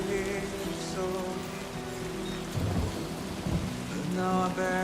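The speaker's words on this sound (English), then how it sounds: "It's raining currently." Steady rain falls in the Death Stranding 2 video game, a dense, even wash of drops with low rumbling swells that sound like distant thunder, layered over a held musical drone.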